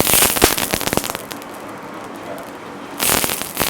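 Butter sizzles in a hot pan before bread is toasted. Loud, close crackling bursts open and close the sound, with a softer steady hiss between them.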